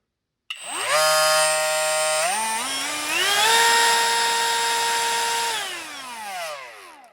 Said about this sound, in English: Now I always operate routers at full blast.